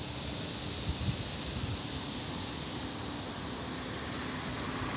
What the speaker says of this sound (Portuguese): E daí o vento batendo, ó.